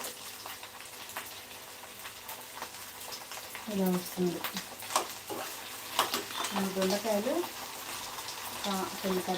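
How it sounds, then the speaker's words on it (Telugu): Chillies fry in a pan for ivy gourd chutney with a soft, steady sizzle and occasional crackles. Someone talks over it for most of the clip. "వేసుకొని అయితే వేయించుకుంటున్నాను ఫస్ట్ అయితే మిర్చి వేయించేసాను అలాగే పచ్చిమిర్చి కూడా వేసాను"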